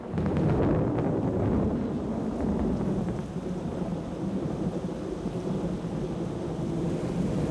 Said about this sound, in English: The wind has risen during the evening and the overcast sky has begun to rumble.